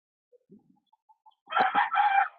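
Backyard roosters crow, a loud close cock-a-doodle-doo burst after a few faint scattered clucks and chirps, heard alone in a quiet setting.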